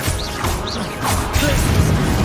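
A Confringo fire-blast spell from Hogwarts Legacy strikes with a sharp crashing burst and swishing impact, followed by further rumbling blasts and battle noise over about two seconds.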